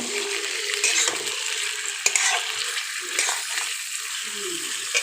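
Chicken frying lightly in a pan on an electric heater gives a steady, soft sizzle with occasional spatters and stirring scrapes, close by and fairly quiet.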